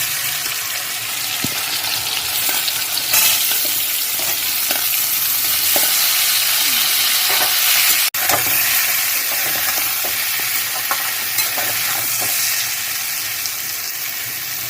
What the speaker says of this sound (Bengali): পেঁপেটাকে তেলের মধ্যে দিয়ে একটু ভাজবো